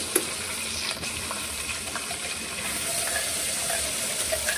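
Cumin seeds crackle in hot oil before an onion and coconut paste goes in for chole masala, producing a loud steady sizzle with a sharp splash as the paste hits the pan, close and continuous.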